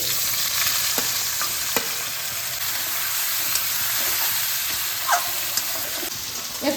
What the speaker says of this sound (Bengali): এই তেলেই আমি এঁচড়টাকে হালকা করে ভেজে নেব